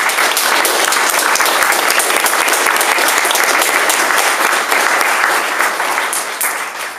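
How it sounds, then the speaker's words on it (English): Audience applause at an award ceremony for empty homes practitioners, a dense, steady wash of many hands clapping at close range throughout, tapering slightly toward the end. "So, if we could give her a round of applause,"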